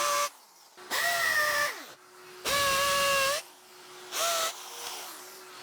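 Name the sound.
drill boring holes for Tapcon screws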